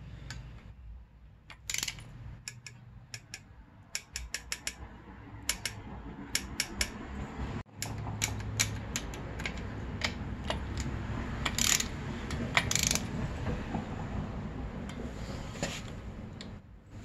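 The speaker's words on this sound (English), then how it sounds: "Those get torqued to 7 foot-pounds, using the right socket, of course." A ratcheting socket wrench with a 5/16 socket torques bolts to 7 foot-pounds on a 2006 Honda CRF250R motorcycle, giving close, sharp irregular clicks over a steady low background hum.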